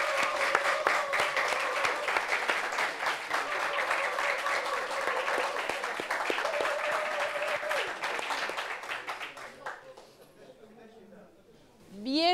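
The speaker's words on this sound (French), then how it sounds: "On applaudit encore." Studio audience applause on a French talk show set, steady dense clapping for about ten seconds, fading out near the end as a voice begins.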